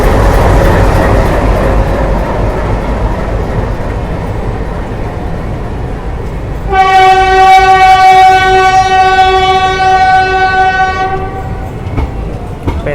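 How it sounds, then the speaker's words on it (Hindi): A train hauled by two ALCO WDM-3A diesel locomotives rumbles loudly past on a Rajasthan desert line, and midway a long, harmonic horn blast of several seconds rings out over the steady roar of the wheels. "Dual locomotives, dual एल्को।"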